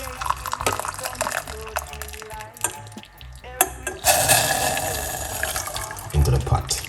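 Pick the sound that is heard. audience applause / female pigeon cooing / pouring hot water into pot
pouring hot water into pot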